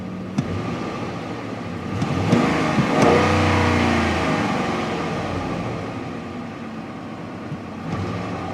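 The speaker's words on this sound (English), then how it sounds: "Here, I'll rev it now." A pickup truck engine with an electronic throttle pedal revs up from idle, climbing to a throaty roar around the middle, then settles back down to a steady rumble.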